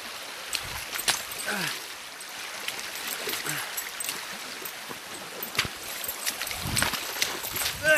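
Rushing, burbling river water flows close by, with splashes and a few scattered human noises over the steady stream.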